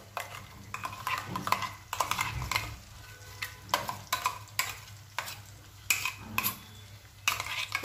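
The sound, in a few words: stirring ground masala paste into cashew curry with a spoon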